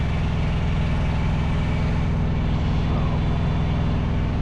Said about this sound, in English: the APU's got to crank up and create a little bit more noise.